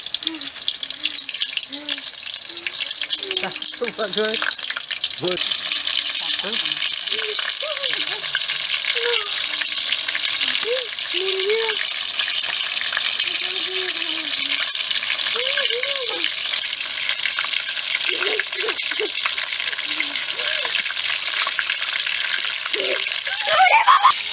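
Fish pakora, small fish dipped in egg batter, frying in hot oil, a steady broadband hiss and crackle running throughout, with scattered clinks and soft voices in the background.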